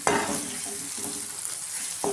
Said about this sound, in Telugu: మంచిగా ఫ్రై అయితే అయ్యిందండి పచ్చిమిర్చి, ఎండుమిర్చి